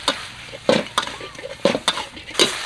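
Catfish and galangal stir-fried in a wok, with bursts of scraping and clattering stirring over a steady low sizzle, several sharp strokes spaced across the moment.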